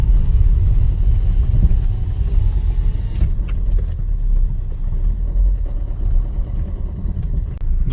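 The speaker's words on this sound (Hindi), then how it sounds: "ये देखें ये गाड़ी जा रही है" A car drives along a road near Baramulla in Kashmir, giving a continuous low engine-and-tyre rumble that stays loud and steady throughout, with no talking.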